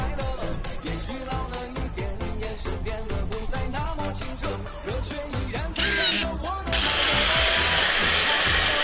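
An angle grinder motor whirs during a repair with a worn bearing, first in a rapid series of rattling, ratcheting bursts, then settling into a steady, loud, high whine near the end.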